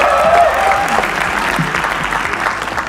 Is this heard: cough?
no